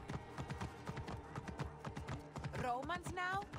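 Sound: horse hooves clip-clopping in video game Assassin's Creed Origins

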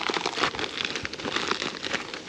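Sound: crinkling of an opened plastic bag

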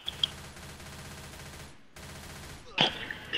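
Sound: gunfire in video game Left 4 Dead 2

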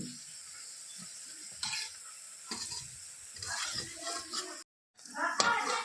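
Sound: frying yellow pea lentil fritters (matar dal bora)

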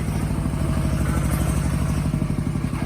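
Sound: farm tractor engine running

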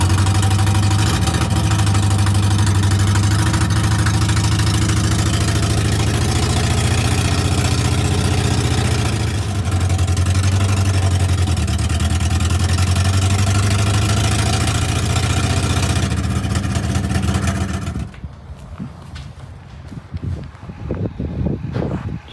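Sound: Barn Sprite car engine starting and idling

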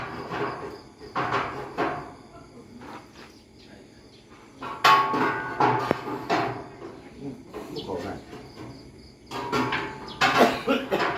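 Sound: hammering

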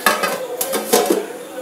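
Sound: lid placed on a cooking pot

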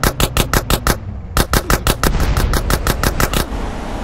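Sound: gunfire in GTA San Andreas video game

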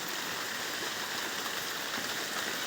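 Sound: light rain falling outdoors

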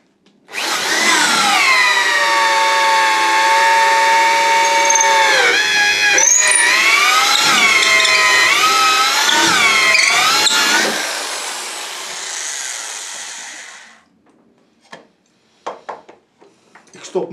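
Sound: old drill bit drilling wood

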